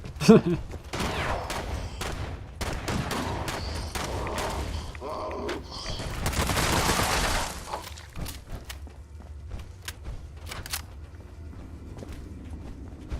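Gunfire in Fallout 76: a long run of sharp, crackling shots and impacts at moderate distance, thickening into a dense burst midway before thinning to sparse cracks, with footsteps between.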